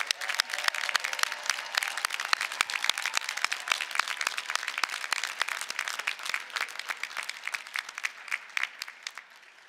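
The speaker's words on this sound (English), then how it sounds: "Let us give them another round of applause for their exceptional" Sustained applause from a graduation commencement audience, a dense, steady wash of many hands clapping at moderate distance for nearly ten seconds with no voices over it.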